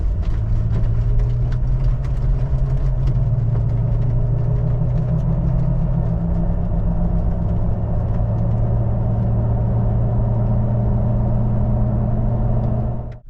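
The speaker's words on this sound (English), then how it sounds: "I'm gonna go half throttle here, and we'll see how these gears change." Toyota Tacoma pickup engine pulling at half throttle through gear changes, a loud, steady low drone from inside the truck with the pitch shifting as gears change, then cutting off abruptly at the end.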